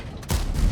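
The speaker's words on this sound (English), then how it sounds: "We get hit by artillery though." A shell from enemy artillery strikes a tank in the World of Tanks video game, a single loud booming crunch that lands partway through and rings on briefly.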